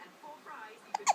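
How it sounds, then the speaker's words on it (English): A child's hiccups, two short sharp bursts close together near the end, following a stretch of quiet, breathy vocal murmuring. "Have your hiccups gone now?"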